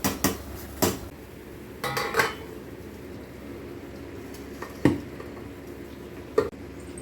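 Cooked rice being drained from a pot, with scattered metallic clanks and knocks of the lid and vessel, close and sharp with short quiet gaps in between, and no talking.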